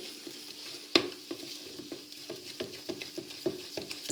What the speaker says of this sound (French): il faut bien mélanger, il faut bien aller la chercher au fond, de façon à faire sécher la pâte